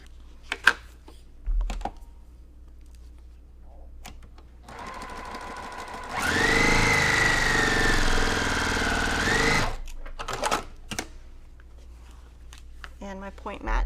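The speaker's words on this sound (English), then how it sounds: "So even though I'm sewing fast and not putting my seam on top, it's working." A sewing machine runs fast along a quilt seam in one loud, sustained buzzing stretch, set between quieter moments of fabric handling and clicks.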